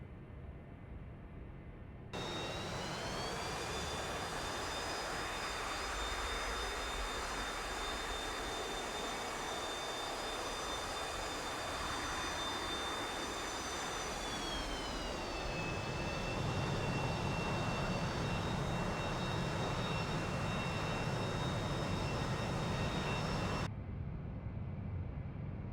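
In the DCS flight game, an escort jet taxiing to the runway near a Saab Viggen AJS-37 produces a steady whining turbine roar with high tonal whistles that shift in pitch midway, beginning abruptly and cutting off before the end.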